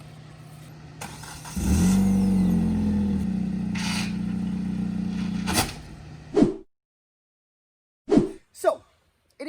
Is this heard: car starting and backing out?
yes